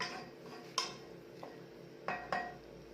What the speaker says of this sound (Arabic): دوكا نحركها كيما هكا